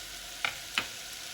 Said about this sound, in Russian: Мешаю соль и пряности и также отправляю в кастрюлю.